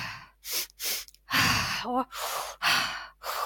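Energizing breathwork demonstration: a series of quick, forceful breaths, sharp rhythmic exhales and gasping inhales close to the mic, with a brief voiced word in between.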